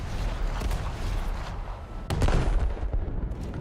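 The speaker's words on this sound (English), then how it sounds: "he's going to be shooting me" Heavy naval gunfire from an enemy cruiser in a naval warfare game, with deep booming shots and a sharp blast near the middle rolling over a constant low rumble of battle noise.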